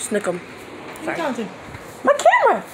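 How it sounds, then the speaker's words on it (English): A dog gives a few short yips and whimpering barks in bursts, close by, while a person talks over them. "That's my dog."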